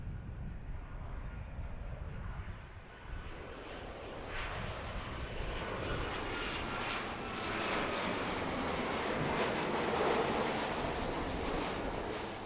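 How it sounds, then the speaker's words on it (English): An American airliner inbound from Chicago passes overhead near Philadelphia's airport at Fort Mifflin, a loud broad jet roar that swells and holds steady, then builds further toward the end. "This is the American flight from Chicago."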